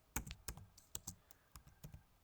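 Keys on a computer keyboard clatter in a quick, uneven burst of about a dozen sharp clicks, close and fairly quiet, with no voices over them.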